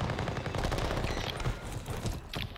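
Gunfire in the shooter game Warzone 3, likely a pistol, cracks off in a dense, steady stream of shots over a noisy battle backdrop for nearly three seconds, with a sharper burst near the end.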